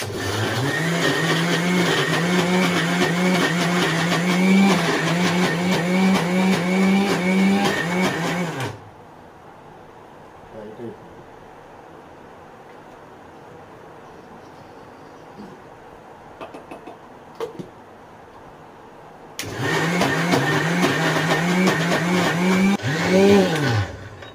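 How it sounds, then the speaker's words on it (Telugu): A mixer grinder runs loudly and close by in two bursts of about eight and five seconds, its motor whine wavering steadily, with a quiet gap in between and no speech. "మిక్సీ వేసేసుకుందాము."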